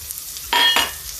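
Sliced garlic dropped into hot oil with cumin and bay leaf for dal, a short burst of sizzling frying lasting under a second amid a quiet kitchen.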